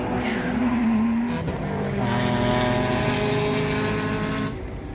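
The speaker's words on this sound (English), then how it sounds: "Nissan GTR flying down the straightaway." A Nissan GT-R race car roars past on the straight at Laguna Seca during a track day, engine note rising and shifting through gears, loud and close before fading slightly.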